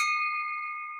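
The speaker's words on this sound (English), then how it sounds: "I'm assuming that's a bell ringer, Jason." A single struck bell at a Rotary Club civic meeting rings out once with a clear, sustained metallic tone that decays slowly over about a second, heard alone without talk.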